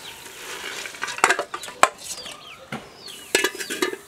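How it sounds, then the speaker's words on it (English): Boiled sun-dried Kenyan beef (aliya) fries in a pan, with a soft sizzle under repeated scraping and stirring clatter from a utensil. A few sharper knocks sound against the pan. "now I want to now fry it in the traditional way"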